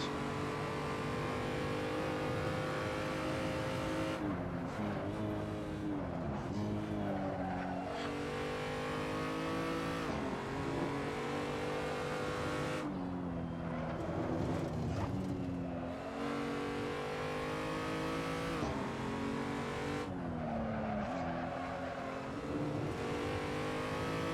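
A BMW M235i at full throttle in Assetto Corsa on the Nordschleife, its engine droning loud and steady, rising through the revs with repeated gear shifts and brief lifts, heard alone without talk.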